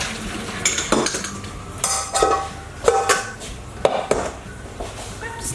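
Boiled potatoes stirred and tossed in coconut oil inside a metal pasta pot, with a utensil scraping and clinking against the pot in repeated bursts roughly once a second, close and fairly loud.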